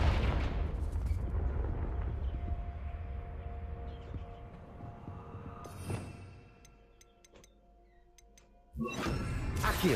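The Confringo spell explodes in a Harry Potter video game with a loud burst at the start, then a fading rumble with scattered clinking debris, and a second loud blast near the end.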